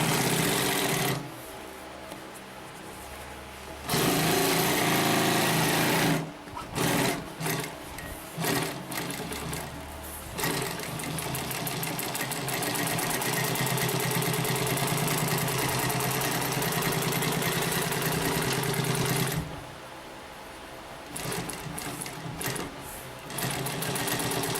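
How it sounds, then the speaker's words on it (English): A Consew Premier P1541S industrial sewing machine stitches through thick stacked layers of material, its motor whirring steadily in long runs broken by short pauses, close and fairly loud, with no talking. "if you need something to sew this thick, the Premier P1541S"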